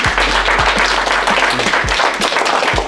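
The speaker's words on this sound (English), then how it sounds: "Can we just give them one more round of applause?" Audience applause at a business evening event, thanking the guests: dense, steady clapping from a room full of people, loud and continuous, with low thumps and a background hum underneath.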